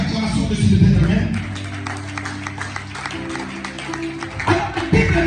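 A church congregation cheers and applauds together, a dense, loud wash of claps and raised voices that swells at the start and again near the end, with lower vocal tones running beneath the crowd noise.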